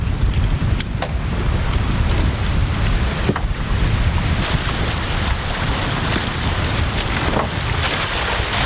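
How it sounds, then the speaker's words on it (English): Strong, gusting wind roars steadily across an open lake in Algonquin, buffeting the microphone with low rumble while waves slap nearby; no voices, just continuous loud blustery noise. "We're just waiting for a lull in the wind before we launch."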